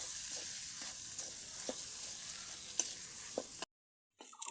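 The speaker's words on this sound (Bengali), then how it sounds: "দিয়ে এরকম করে নেড়ে ভাজবো।" Potatoes stir-frying in a pan with turmeric, salt and chili powder make a constant bright sizzle, punctuated by spatula scrapes and taps, before the sound cuts off abruptly near the end.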